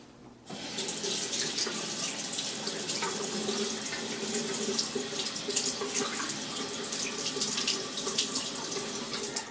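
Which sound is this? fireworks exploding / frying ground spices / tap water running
tap water running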